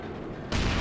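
A Panzer IV tank gun strikes in a Company of Heroes 2 match, a sudden loud broadband blast that cuts in abruptly and holds as a dense roar.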